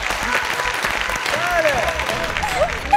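An audience claps steadily for a team captain on an Azerbaijani entertainment show, a dense broadband patter of many hands that fills the clip under a host's speech.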